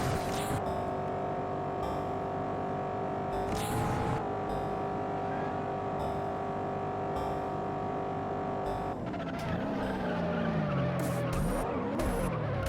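Car tires skidding through a partial spin-out while turning into a wall grind in the Juiced racing game, a sustained screech over a steady engine drone, with a sliding pitch sweep toward the end.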